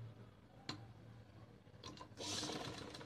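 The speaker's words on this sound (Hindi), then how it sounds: "यहाँ पर भी एक सिलाई लगाएंगे" Sewing machine stitching along a fabric strip for a slit design, a quiet mechanical hum with a sharp click, then a louder rapid whirring run of stitches near the end, close and without talk.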